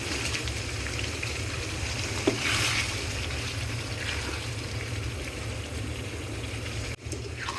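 Washed beef liver and cut winter potatoes tossed into a frying pan, a steady crackling sizzle of hot oil with a soft clunk near the start and a brief utensil knock later.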